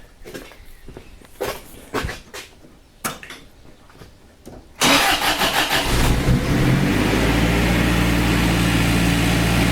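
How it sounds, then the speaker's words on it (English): A Wlt diesel engine with its fuel delivery turned up: a few clicks and knocks, then the engine cranks and starts, settling into a loud, steady, high-revving idle that keeps going. "As you can hear, my idle's gone far too high, so I'm now going to have to drop that down a bit."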